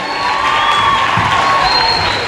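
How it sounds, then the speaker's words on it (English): A crowd at a World Food Day national ceremony at a high school applauds and cheers for a minister, a loud steady wash of clapping with whoops and raised voices mixed in. "Please give him a round of applause."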